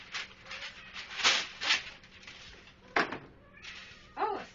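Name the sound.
cats meowing loudly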